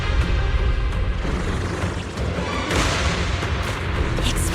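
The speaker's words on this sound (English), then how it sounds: "Explosions are becoming more frequent." Cocoon blasts explode in the action game Zenless Zone Zero, a continuous loud rumbling roar with repeated booming thuds that swell again near the end, and no talking.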